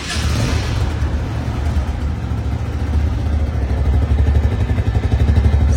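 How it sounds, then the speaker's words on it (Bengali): A Metro Plus motorcycle, a second-hand new-model bike, starts on the self-starter and settles into a loud, close, steady idle with a rhythmic engine chug that grows slightly stronger toward the end. "বাইকটা এখন সাউন্ড কোয়ালিটি শোনাবো আপনাদের। এক সেলফে কিন্তু স্টার্ট।"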